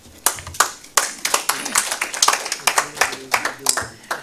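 Audience at a Kenya diaspora homecoming convention applauds with scattered, uneven hand claps close to the microphone, steady for several seconds with a voice faintly underneath.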